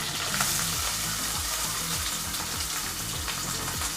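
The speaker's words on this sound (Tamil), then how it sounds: "இப்போ வெங்காயம் கொஞ்சம் லைட்டாக வதங்கட்டும்" Onions sauté in hot oil in a pan with mustard seeds and curry leaves, giving a dense, continuous crackling sizzle that stays close and even throughout.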